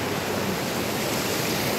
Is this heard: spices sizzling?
no